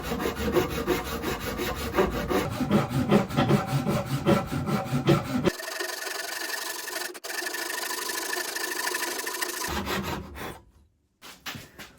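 A hand saw cuts a notch into wooden baseball bats clamped in a vise, a steady rhythmic back-and-forth rasp for about five seconds, then a brief rougher grinding stretch before the strokes stop and it falls quiet.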